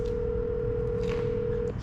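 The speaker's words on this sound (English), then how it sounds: "We're calling right back." Outgoing phone call dialing from inside a Ford Raptor cab: a single steady ringback tone holds for about 1.7 seconds over a low rumbling background, then cuts off.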